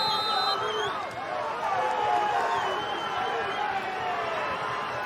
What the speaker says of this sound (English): Crowd here really getting into this shootout.